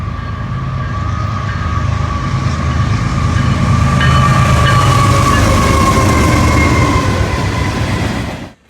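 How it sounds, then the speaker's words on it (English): Norfolk Southern manifest freight train with a GE Evolution locomotive leading and an SD70ACe-C6M trailing, rolling past close and loud as a continuous heavy rumble with steady wheel noise, then cutting off abruptly. "Norfolk Southern Manifest with Gevo leading and C6M trailing."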